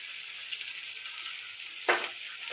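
Onion and tomato fry in a pan with a steady, even sizzle throughout, and one brief scrape or stir near the end.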